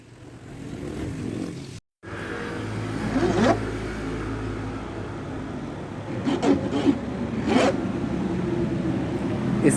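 A zipper being sewn back onto a badly damaged suitcase, heard as faint rasping and zipping strokes with a few sharper pulls over a steady low background hum, no voice present.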